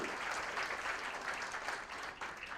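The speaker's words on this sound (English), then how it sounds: "I think he deserves a round of applause, Akshay Kumar ji." A crowd applauds at the launch of a major health campaign, a continuous hiss of many clapping hands with no talk, heard at a distance and fairly faint, holding steady for a couple of seconds.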